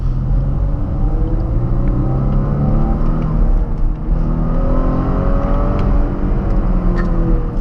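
A Porsche Panamera's 300 hp V6 engine pulls hard in Sport Plus mode with a deep, rising rumble that holds loud and steady from inside the car, with no one speaking.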